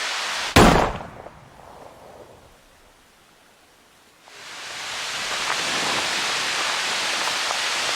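Steady broadband rush of water pouring over the stepped wall of a dam swells in after a sharp burst and a quiet stretch, then holds loud and continuous to the end.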